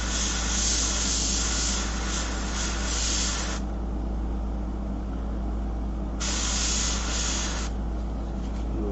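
Airbrush spraying paint onto shellac-covered paper, a steady close hiss with two longer bursts of stronger spray over a constant low compressor hum.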